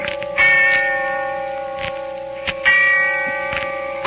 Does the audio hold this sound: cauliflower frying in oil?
no